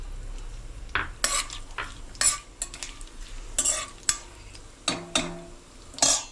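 Whole spices sizzle in hot oil as they temper for mutton rogan josh: bay leaf, cinnamon, four cracked green cardamom pods and eight to ten cloves. Steady frying hiss runs under sharp scrapes and clinks of stirring against the pan.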